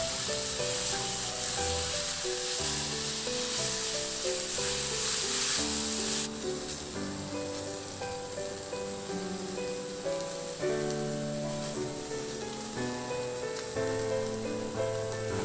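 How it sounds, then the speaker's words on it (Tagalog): Marinated beef stir-fries in a pan with onion, a loud continuous sizzle and hiss, with a brief sharper burst of spitting oil early on before settling into a steady fry. "Ilagay ko na yung marinated beef. Ihalo hanggang sa mag-iba na ang kulay."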